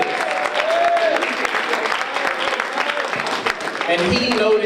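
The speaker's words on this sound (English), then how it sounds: "Let's give a round of applause for the mayor of the city of Milwaukee" An audience at a women of color entrepreneur conference applauds the mayor of Milwaukee, steady dense clapping filling the room for several seconds with crowd noise and faint voices mixed in.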